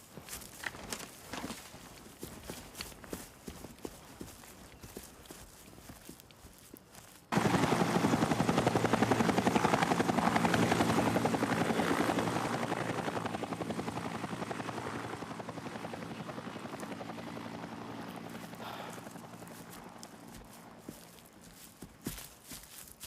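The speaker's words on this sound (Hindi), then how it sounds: "हेलीकॉप्टर वापस क्यों भिजवा दिए?" A helicopter thunders in abruptly and loudly with a dense rotor roar, holding steady before gradually fading into the distance. There is no talk.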